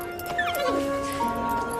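A dog gives a high whimper that slides downward into sustained whining tones, fairly faint and heard close, with talk audible in the background.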